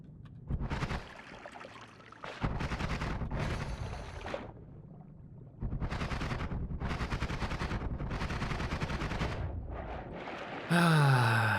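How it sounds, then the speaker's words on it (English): Explosions in the video game Noita go off in a series of long, rough, rumbling bursts of moderate loudness, separated by brief lulls, ending with a sharper burst. "He's exploding into a little bit more lava still."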